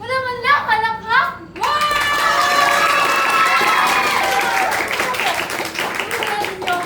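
A stage play audience bursts into loud, dense clapping and cheering after an actor's raised voice, the crowd applause continuing steadily with some shouts mixed in.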